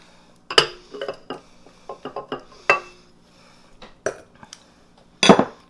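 A spatula clatters and scrapes in a bowl while mixing butter and egg for spiced cookie dough, with a string of clinks and knocks at irregular intervals and no talking.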